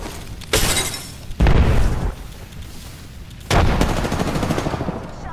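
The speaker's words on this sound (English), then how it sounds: "Throwing Arcstar." Explosive bursts in Apex Legends as an Arcstar grenade is thrown, with three loud crashing blasts separated by pauses and crackling debris trailing after each.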